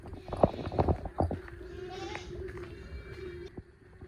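Goat on a sandy beach at Oetune, giving several short wavering bleats in quick succession near the start, fairly close, then fading into steady wind and ambient noise.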